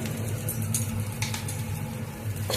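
Cumin and coriander sauté in a pan with oil, a steady close sizzle broken by clinks and scrapes of a spoon stirring, with no voices.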